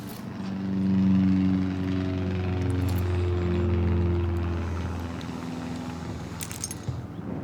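A loud plane passes overhead in the Tell Me Why video game, a droning engine roar that swells, holds, then fades over several seconds, with a brief metallic jingle at the end.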